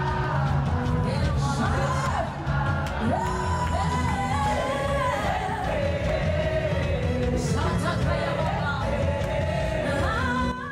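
A crowd cheers and whoops at the Semaine royale gathering at the Cité royale. Yells and shouts rise continuously and loudly over music throughout.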